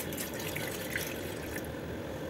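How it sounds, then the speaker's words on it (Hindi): Water poured into a cooking pan for Maggi instant noodles, a continuous splashing, hissing flow that stays loud and even throughout, with no voices. "तो गाइस अभी डालना है हमें पानी"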